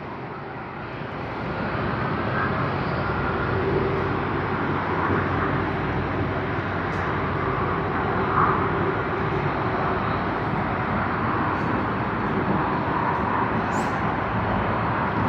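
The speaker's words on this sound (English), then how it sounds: "Yep, capturing the aircraft out there." Steady broadband jet aircraft roar at Sydney Airport, a loud continuous wash of engine noise rising over the first second or two and then holding evenly throughout.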